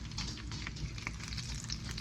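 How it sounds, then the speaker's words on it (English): Steady, dense crackling and sizzling of potatoes frying in hot oil, continuous and close throughout, with no voices. "I'm gonna go ahead and start frying these potatoes"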